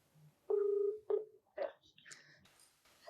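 A telephone keypad dials out to reach a viewer: several short, clean tones in a quick uneven row, fairly quiet and close, followed by brighter ringing tones.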